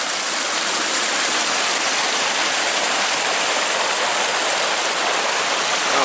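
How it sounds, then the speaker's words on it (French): A small mountain stream in snowy mountain country flows in a constant, dense rushing wash of water, loud and close, with no voices over it. "Et là on se retrouve à côté d'un petit ruisseau"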